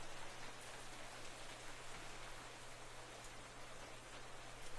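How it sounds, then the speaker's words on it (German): Steady rainfall in the video game Minecraft, an even, continuous hiss of falling rain with no voices, holding at a constant level from start to finish. "Ja, das ist der Regen."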